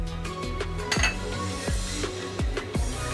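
A pan clinks and clatters as oil is poured in for roasting cashews, several sharp metallic knocks over a steady kitchen background, close and fairly loud.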